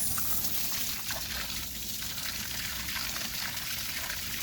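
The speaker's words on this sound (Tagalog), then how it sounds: "kanina ko pa siya binuksan ang hose para na maka bastante ang tubig sa kanila" A garden hose left running trickles water onto young trees planted in sandy ground outside a house, a faint, steady wash of water with no voices.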